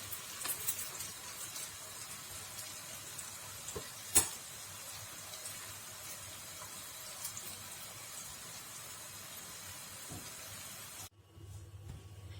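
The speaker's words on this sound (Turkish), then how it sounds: "Ve arkalarını iyice kızarana kadar kızartacağım." Steady, close sizzling of kibbeh frying in hot oil, with faint stirring clicks and a brief clatter; the sizzle cuts off abruptly near the end.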